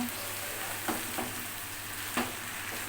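A paste of ginger, garlic, cumin, dried chili and coriander powder sizzles steadily in a pan with meat, with a few soft stirring scrapes breaking through the constant frying hiss.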